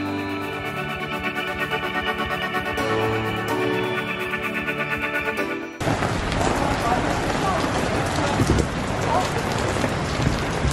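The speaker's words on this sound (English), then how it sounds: "It's raining like crazy." Heavy rain pouring down on a city street, a dense, loud hiss of drops on hard surfaces that starts abruptly after a stretch of tonal music and continues steadily.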